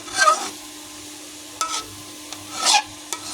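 Carrot halwa stirred in a pan, giving a few scraping, rubbing strokes in short bursts with quiet gaps between, close and fairly soft.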